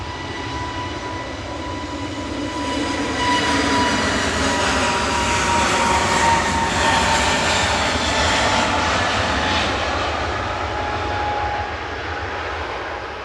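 An EasyJet jet airliner bound for Amsterdam roars steadily on take-off at an airport, a loud, sustained engine rumble with a whining tone that swells midway and eases slightly as it climbs away.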